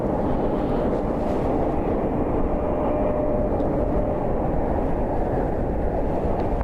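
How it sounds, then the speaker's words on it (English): Steady broadband roar of an aircraft inbound to Cleveland Hopkins airport, heard from a plane-spotting spot. It holds a constant, moderately loud level throughout with no voices. "Got some more aircraft inbound here."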